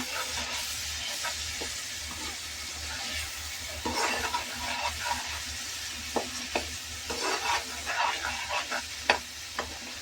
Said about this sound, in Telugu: నూనెలో వేగుతుంటేనే మంచి స్మెల్ వస్తుందండి